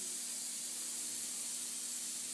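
An airbrush sprays paint with a steady, continuous hiss of airflow, close and unbroken throughout with no voices.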